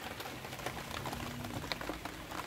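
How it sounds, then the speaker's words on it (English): Steady rain falling in a vegetable garden with broccoli plants, a dense continuous patter with scattered sharper drops close by, no voices. "it's just raining"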